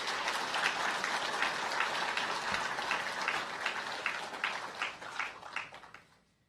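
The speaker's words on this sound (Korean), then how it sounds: "여러분 박수 한번 크게 부탁드리겠습니다" Applause from an audience at an indoor monthly staff assembly. Steady, dense clapping dwindles into a few scattered claps and then stops.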